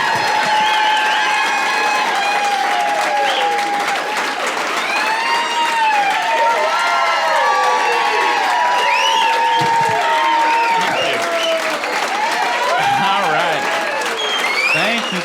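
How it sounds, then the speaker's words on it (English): A comedy club audience applauds loudly and continuously for a stand-up comedian, with cheers and whoops rising over the dense clapping throughout. "Everybody give a nice round of applause."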